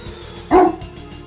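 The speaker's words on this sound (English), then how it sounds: "No barking puppies, hopefully." A puppy's single short bark from the video game Arc the Lad 2, one clear yap over quiet game background music.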